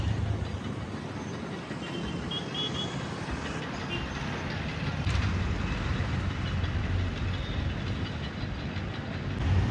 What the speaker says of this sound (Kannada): ಬೆಳಗಾವಿ ರೈಲ್ವೆ ಸ್ಟೇಷನ್ ಅದ ನೋಡ್ರಿ ಇದು.